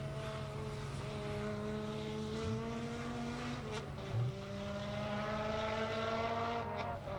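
The 9 Lives Racing S2000 race car finishes a hot lap at New Jersey Motorsports Park during a time attack session. A continuous engine drone holds at a distance with rising and falling pitch through gear changes and a brief higher whine near the middle.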